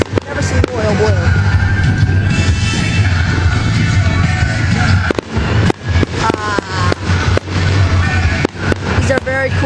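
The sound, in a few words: fireworks exploding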